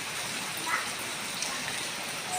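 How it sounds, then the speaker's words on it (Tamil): Heavy rain pours down steadily outdoors near banana trees, a dense continuous hiss of drops on surfaces with no pauses, fairly close and alone. "இன்றைக்கி இம்பிட்டு மழை ஆகும்னு நான் நினச்சி கூட பார்க்கல."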